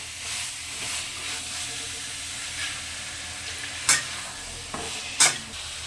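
Vegetable masala with a splash of water sautés in a pan, giving a low continuous sizzle with intermittent scraping strokes of a spatula, two sharper clanks standing out near the end.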